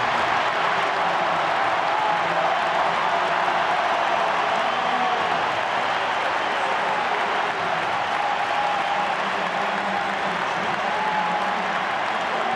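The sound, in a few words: stadium applause welcoming Lautaro Martinez and Angel Di Maria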